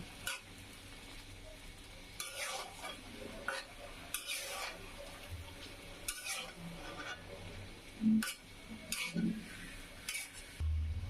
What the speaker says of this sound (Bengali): আমি মুরগিটি কষিয়ে নিই।